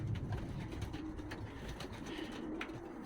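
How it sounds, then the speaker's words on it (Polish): Racing pigeons coo softly while feeding from a bucket, a low steady murmur of calls close by with no talking. "I gołębki jedzą sobie o, z wiaderka."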